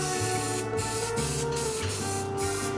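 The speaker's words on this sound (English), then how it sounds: "I'm gonna go ahead and spray." Short bursts of airbrush paint spray hiss, about five quick puffs in under three seconds, over a steady compressor hum.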